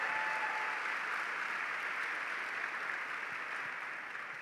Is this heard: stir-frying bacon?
no